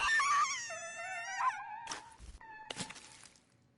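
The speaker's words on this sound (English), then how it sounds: "Suzu's terrifying screams echoes from both the phone and outside the booth." Piercing screams from the horror video game Death Mark ring out of a phone, high wavering wails that break off abruptly, followed by harsh noisy bursts and a further cry.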